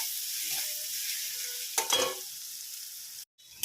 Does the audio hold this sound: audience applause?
no